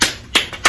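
Three sharp hand claps, close and crisp, evenly spaced in a quick rhythm with nothing else around them.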